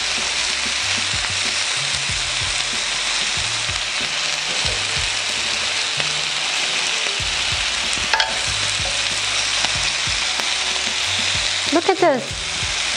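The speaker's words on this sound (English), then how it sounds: "a grill machine outdoor doing barbecue" Caramelized pork skewers sizzle on an outdoor barbecue grill in a loud, steady, close crackle that runs unbroken throughout, with a few faint clicks near the end.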